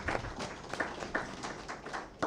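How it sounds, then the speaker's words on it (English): Audience at a civil society conference in Northern Uganda gives a round of applause, a steady patter of hand claps with scattered louder claps, moderately distant and without talk. "A round of applause."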